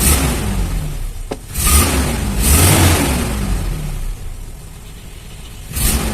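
A motorcycle engine with repaired TCI ignition wiring runs after starting, idling unevenly with a few short blips and surges, loud and close over a steady mechanical drone.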